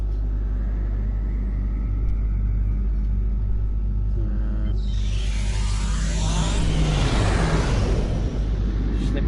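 A starship engaging its slipstream drive in Star Trek Online on PS4: a constant deep engine rumble that swells into a bright, roaring rush partway through, with a player talking over it.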